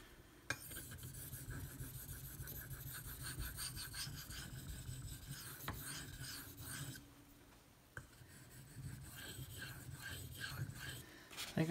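Steady rhythmic rasping strokes of a Bark River Bravo EDC knife blade being sharpened by hand on a stone, a quiet, close scraping that runs continuously with a couple of brief knocks.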